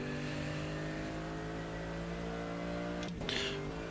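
A race car lapping the Nürburgring in the Assetto Corsa video game, a steady loud engine drone with a sustained high whine, broken by a brief gear-shift dip and a rise again near the end.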